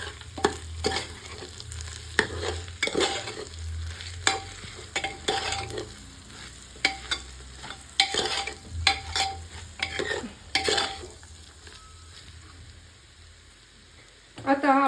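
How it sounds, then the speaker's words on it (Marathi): A spoon stirs spices and salt into masale bhat in a pan, with irregular scraping strokes over a soft steady sizzle, close and moderately loud, no talking. "आणि व्यवस्थित हे मसाले व्यवस्थित हलवून घ्यायचे"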